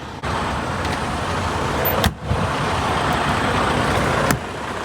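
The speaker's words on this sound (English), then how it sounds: "So I just parked the truck." A parked truck's engine idles steadily and loudly up close, a continuous broadband rumble broken by two brief dips and sharp transient spikes around the two- and four-second marks.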